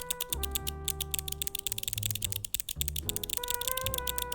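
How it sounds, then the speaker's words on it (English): Rapid typing on Amber Alps mechanical keyboard switches produces a dense, steady stream of close, crisp key clicks over a background of sustained musical tones. "So these are what Amber Alps sounds like."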